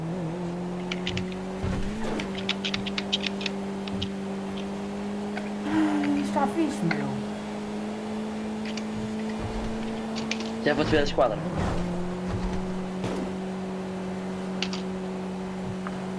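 A car engine hums steadily while driving, a low, constant drone with a few brief knocks and rattles, as two men chat casually in Portuguese over it.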